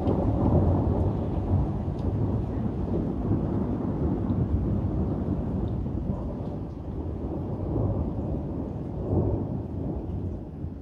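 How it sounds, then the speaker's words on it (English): Thunder rolls and rumbles continuously over steady rain during a huge lightning storm in south-east England, deep heavy rumbling swelling and fading with a few louder surges. "This is one of the biggest lightning storms I have witnessed in my life in the UK."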